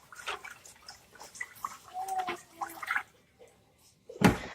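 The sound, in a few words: rinsing white rice in water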